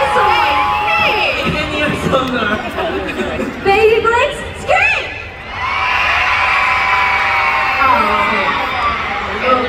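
A large concert crowd at a show screams and shrieks loudly, high-pitched voices sustained for several seconds with a brief dip before swelling again.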